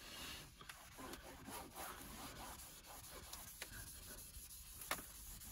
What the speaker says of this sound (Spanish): aprovechar un poquito a limpiar la pantalla